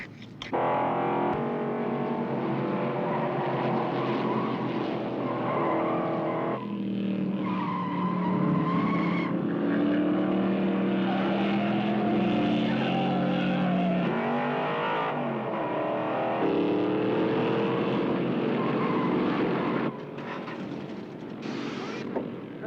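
A race car engine with worn ignition points runs rough and uneven, loud and close throughout with shifting harmonic tones, while people talk over it.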